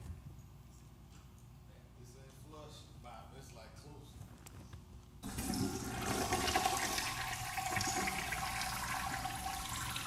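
A toilet flush sound effect, a loud rushing surge of water that starts midway and continues to the end, following a stretch of quieter talk.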